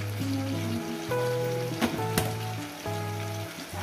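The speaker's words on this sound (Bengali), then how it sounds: "হলুদটাকে দিয়ে আরো আমি 3-4 মিনিট ভেজে নেব" Vegetables frying with turmeric powder in a pan for a fish curry, giving a steady, moderate sizzle with a couple of brief louder crackles, all set against a sustained tonal background.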